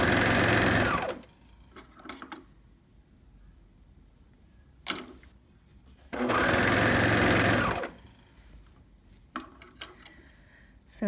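A sewing machine stitches a curved hem in two loud, sustained runs of rapid whirring, with quiet pauses between them filled by fabric handling and small clicks.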